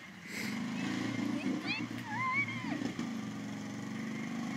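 Prowler off-road vehicle churning through a creek near Grande Prairie, Alberta, with engine drone and water sloshing, fairly faint and distant, while people shout and talk over it.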